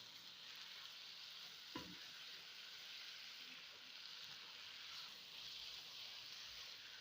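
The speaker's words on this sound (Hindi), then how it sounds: "ये घी गाजरों से लहदा नहीं हो जाता तब तक इसको आपने भूनना है" Carrots fry in ghee for gajar halwa, a soft steady sizzle with a faint hiss under the gentle scrape of a spoon stirring the pan, quiet and continuous throughout.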